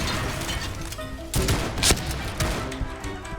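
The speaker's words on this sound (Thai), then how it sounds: "ระเบิด" A blast in the online shooter game Point Blank, heard as a couple of sharp bursts over a dense, continuous wash of gunfire and game noise, with no speech.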